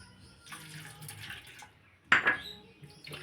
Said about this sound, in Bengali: ডালে পাউডার মেশানো থাকে, তাই একটু ভালো করে হাত দিয়ে ঘষে ঘষে না ধুয়ে রাখলে হয় না।